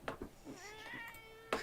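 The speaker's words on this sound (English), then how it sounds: "No, after that sad meow." A single drawn-out, sad-sounding meow from a cat being held, rising then falling, close but fairly quiet, with brief handling noises before and after.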